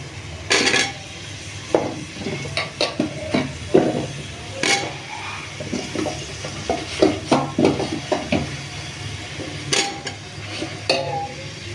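Potatoes and papaya frying in a pan for a home-made chicken stew, stirred with a utensil that scrapes and clatters against the pan in irregular strokes over a faint, steady sizzle, close up.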